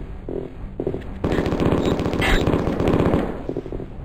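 Rapid gunfire from the 1995 video game Mortal Coil: Adrenalin Intelligence, a dense, loud stream of automatic shots lasting several seconds after a couple of brief opening bursts.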